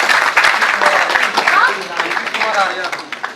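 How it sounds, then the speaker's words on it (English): Brief scattered audience clapping during an entrepreneurship motivation session, a few distinct claps followed by a loose patter, with speech running alongside. "Clap for him."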